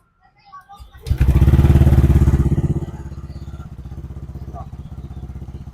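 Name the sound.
Yamaha Aerox scooter engine starting and running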